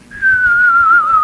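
A single person whistles one sustained, slightly wavering note that glides gently downward, imitating an aunt's whistle, close and clear for about a second with no other sound.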